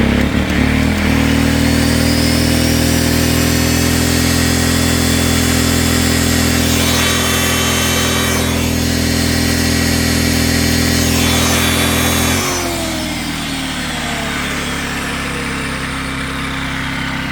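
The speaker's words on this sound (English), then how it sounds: "That was a load on that generator there." An old Milwaukee 7-inch grinder loads a Predator generator, whose engine drones loudly and steadily alongside the tool's whine until the load drops near the end and the engine note falls to a lower, lighter idle.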